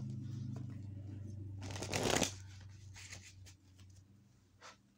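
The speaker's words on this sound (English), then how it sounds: "that was just me babbling while I shuffle cards" A deck of tarot cards being shuffled by hand, a dense riffling burst in the middle with softer card rustles before and after, close and fairly quiet over a steady low hum.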